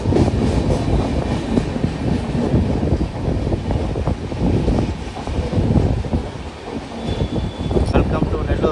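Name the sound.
general class passenger train running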